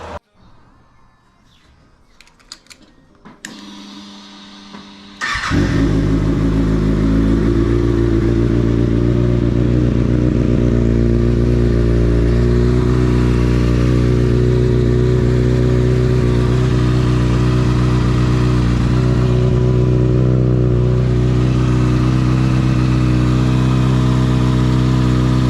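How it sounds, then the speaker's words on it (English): A 2022 Kawasaki Ninja ZX6R motorcycle engine cranks over and fires up, then settles into a loud, steady idle that runs uninterrupted close by, following a few quieter clicks and shuffles before the start. "let's go ahead and fire up the bike"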